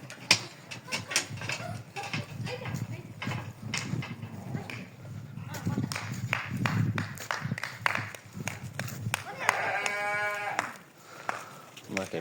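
Sheep and lambs aged six to ten months bleating in a pen, with a wavering bleat standing out near the end amid shuffling, knocking noises and a person talking.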